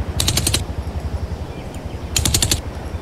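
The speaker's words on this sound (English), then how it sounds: "When I shoot my gun" The player's gun in Crysis Remastered fires two short rapid bursts about two seconds apart over a rumbling low ambient bed.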